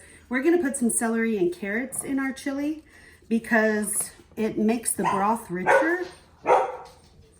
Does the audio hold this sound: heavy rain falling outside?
no